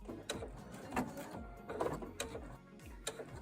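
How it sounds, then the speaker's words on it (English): Sewing machine stitching down quilt binding to close a gap, with a 0A foot, giving faint rhythmic mechanical ticking and whirring bursts, quiet and close, with short pauses between runs. "So I'm just stitching this down so we close off the gap."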